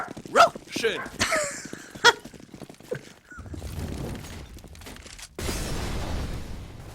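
A dog barks a few sharp, separate times in the background, mixed in with people talking and game sound effects from an esports match.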